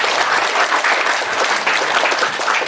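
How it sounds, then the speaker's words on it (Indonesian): Steady, dense applause from a seated audience at a business talk event fills the room evenly, loud and sustained without speech. "Tepuk tangan."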